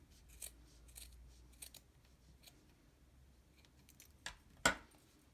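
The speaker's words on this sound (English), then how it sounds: "Okay, and then we just give the ends a trim." Scissors trim the yarn ends of a chunky crochet blanket, making several quiet, separate snips with one sharper cut near the end, in an otherwise hushed room with no talking.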